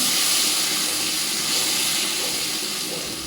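Water and ginger-garlic paste hitting frying onions in a pan, a loud, steady hissing sizzle that holds evenly throughout.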